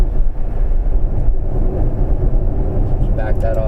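Low, steady road and motor rumble from a Jaguar I-Pace electric car accelerating on a freeway, heard from inside the cabin as a constant drone with a faint higher tone near the end.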